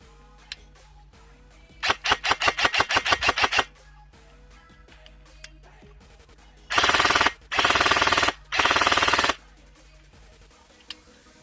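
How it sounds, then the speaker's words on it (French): Lancer Tactical AK airsoft rifle fired outdoors: a rapid burst of sharp, closely spaced shots, then three dense full-auto bursts in quick succession, loud and near with quiet gaps between. "ce que je propose, c'est qu'on regarde de suite ce que ça donne en test de tir en extérieur"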